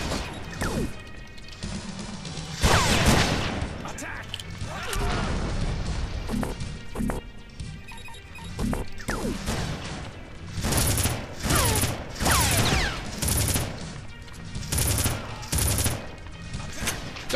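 Precision rifle fire in the Red Faction game, with repeated sharp cracks and crashes in uneven bursts, loud and close, with game noise running through.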